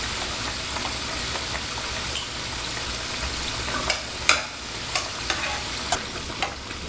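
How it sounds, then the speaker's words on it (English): Chicken broth boiling in a pot on a stove, a steady hiss and bubbling with occasional sharp scrapes and taps of a utensil stirring against the pot, close and continuous. "My chicken broth is boiling."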